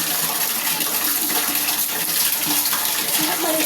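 Water runs steadily into a bath, a continuous close rushing and splashing with no pauses or talk over it.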